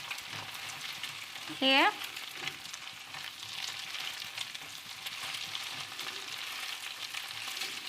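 Egg and vegetables stir-fried in a pan for homestyle Chinese fried rice give a soft, continuous sizzle with light scraping, fairly quiet, with a brief squeaky tonal sound near the start and a short spoken word near the end.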